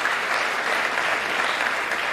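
A dense, steady round of audience applause for the Vice Chancellor fills the hall, close and continuous with no voices over it.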